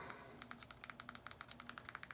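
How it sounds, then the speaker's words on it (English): Rapid typing on a computer keyboard: a steady run of about fifteen crisp, close key clacks over two seconds, with no voice. "I'm typing all that into search"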